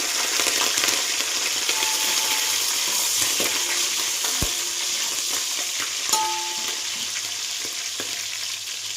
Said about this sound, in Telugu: ఆ బిర్యానీ మసాలా కొంచెం వేగాక మనం కట్ చేసి పెట్టుకున్నాం కదా పచ్చిమిర్చి, అవి వేసుకుందాం.